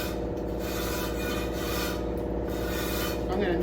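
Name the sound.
old wire brush scrubbing rusty wheel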